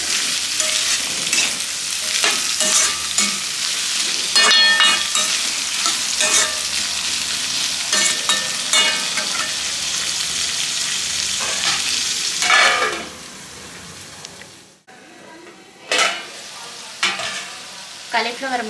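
Cauliflower pieces fry in a pan with a bright, steady sizzle and intermittent stirring scrapes, close and loud, before the sizzle drops away near the end, leaving a few scattered clinks.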